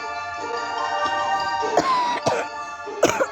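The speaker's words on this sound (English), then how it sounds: "Sorry, I didn't mean to cough." A person coughs a few times, rough bursts breaking over a steady background hum, fairly close.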